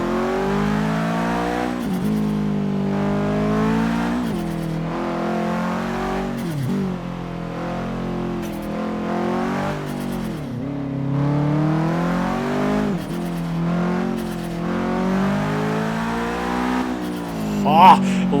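A 500 hp Subaru Impreza WRX STI hatchback in Forza Horizon 3 accelerating hard in third gear, its engine note rising and falling through repeated gear pulls along a twisty road, with someone talking over it.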